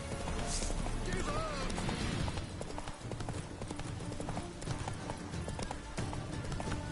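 Hooves of Geralt's horse Roach in The Witcher 3, a steady clip-clop of trotting steps over a continuous outdoor game ambience, with a brief whinny early on.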